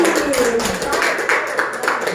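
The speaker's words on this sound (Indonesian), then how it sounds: "Semangat, tepuk tangan lagi." Students in a high school classroom applaud together, a steady dense patter of many hands clapping close by with some murmured voices mixed in.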